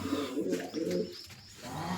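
Pigeons coo softly nearby in low, throaty murmurs, a few rolling calls with a short pause before the cooing resumes.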